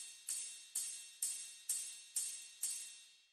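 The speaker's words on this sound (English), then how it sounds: "The ride again comes from the 808 to 909 kit." A ride cymbal from an 808-to-909 drum kit, drenched in reverb, strikes six evenly spaced times, each bright ping ringing out and decaying into the next.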